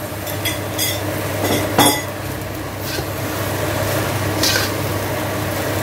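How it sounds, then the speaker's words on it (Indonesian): Meat is stir-fried with fragrant spice paste in a pan for Padang-style satay, with clinking utensil scrapes and taps against metal over a steady sizzling hiss, close and fairly loud. "Bumbunya udah wangi, dimasukkan dagingnya ya, kita tumis"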